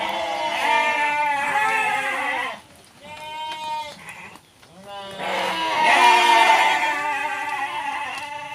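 Goats bleat repeatedly at a farmhouse amid rice paddies in a Sukabumi village, loud and close, with wavering cries in short bursts and people talking nearby between and over them.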